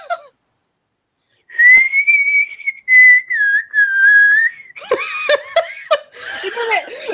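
A person whistles a sustained, wavering tune up close for about three seconds after a short silence, then laughter and chuckling break in over the end.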